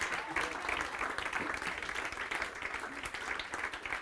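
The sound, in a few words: congregation applauding the church singers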